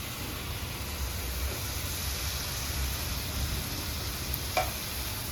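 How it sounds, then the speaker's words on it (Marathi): Capsicum sautéing with onion in a pan for pav bhaji gives a steady, even sizzle and hiss throughout, with a few soft stirring clicks and scrapes. "आता शिमला मिरची चांगली परतून घ्यायची"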